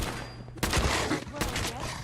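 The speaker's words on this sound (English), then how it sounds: "I believe a sniper has found us." Two sharp, loud sniper rifle shots crack about three-quarters of a second apart in Fallout 4, each with a short echoing tail, while a voice speaks in the background.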